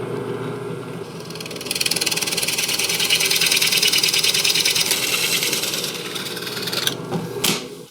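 A router bit cutting a quarter-circle curve into a wooden desk workpiece, a loud, steady high-pitched whine with chattering wood-cutting noise that builds, holds and then tapers as the cut finishes.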